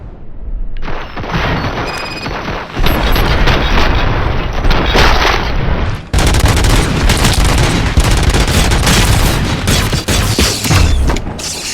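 Heavy gunfire and explosions in RoboCop: Rogue City: loud booms and continuous automatic fire with mechanical clatter, starting sparse, then surging into a sustained, dense barrage that runs almost without pause.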